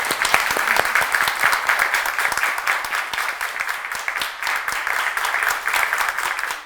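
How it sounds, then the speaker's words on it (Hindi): Audience applause fills a women's empowerment stage show, steady dense clapping from a large crowd throughout, loud and close without pause. "इसके लिए जोरदार तालियां दोस्तों।"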